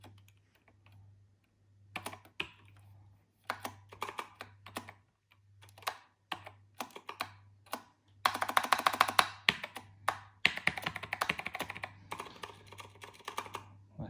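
Typing on a filthy Apple Adjustable Keyboard with some sticky keys: clear, close key clicks in irregular bursts, sparse at first and then fast and dense, over a steady low hum.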